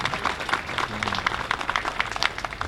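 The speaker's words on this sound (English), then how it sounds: "So can you give her another round of applause?" An audience at a Town of Poughkeepsie Veterans Day ceremony gives a round of applause, a dense, even patter of clapping that holds steady throughout.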